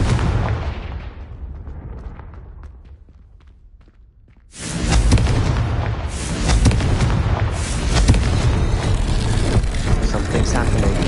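Confringo and Incendio spell blasts in the video game Hogwarts Legacy: after a few quieter seconds, loud booming fiery explosions erupt and roll on continuously in a dense, rumbling barrage.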